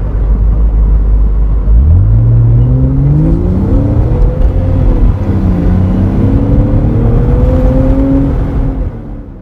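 A BMW Z4 3.0 with an SMG gearbox accelerates hard from close by, its loud engine note rising steadily through several upshifts with brief dips between gears, then fading slightly at the end.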